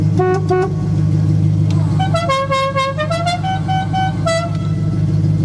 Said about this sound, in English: one thing this Duster has that no modern muscle car has is 2 horns